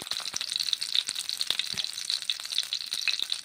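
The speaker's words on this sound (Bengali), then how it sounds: "সর্ষের তেল দিয়ে ফুলকপি ভেজে নিচ্ছি" Cauliflower frying in mustard oil in a hot kadai, a bright crackling sizzle with quick irregular pops and spits, close and moderately quiet, no talking.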